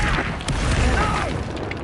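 A Confringo blasting spell bursts during a Hogwarts Legacy fight with poachers, a loud, dense rumbling blast that fills the moment, with a faint voice and scattered battle noise mixed in.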